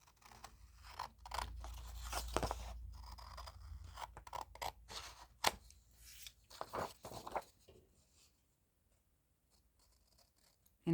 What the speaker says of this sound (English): So let's just cut out this tag.